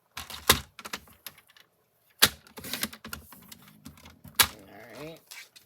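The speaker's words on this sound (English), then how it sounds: "I'm actually going to trim this just a hair." Paper being trimmed for a fun fold card, with sharp crisp cuts and slicing strokes in short bursts, close and fairly loud, separated by quiet pauses and light handling rustle.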